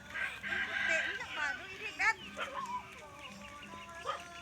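A rooster crows and clucks amid other birds and farmyard noise, with people talking nearby over a steady outdoor background.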